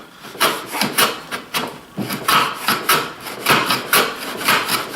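A Lee Valley Veritas shooting plane slides along a shooting board, shaving end grain of wood in a steady series of about a dozen rasping strokes, each a short swelling scrape, close and alone.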